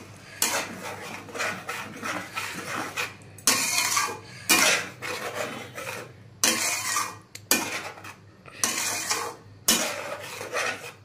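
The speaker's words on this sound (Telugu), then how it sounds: "దీనంతటిని ఒకసారి కలుపుకుందాం." Masala paste for Andhra-style stuffed brinjal curry stirred in a pan, heard as repeated bursts of close scraping and rubbing strokes separated by short pauses.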